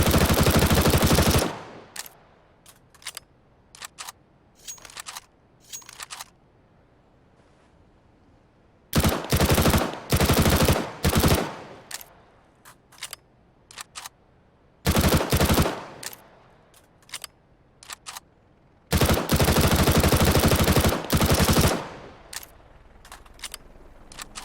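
An MP7 submachine gun fires in the video game CS:GO in several loud, close bursts of rapid automatic shots, separated by pauses with short single shots and quiet gaps.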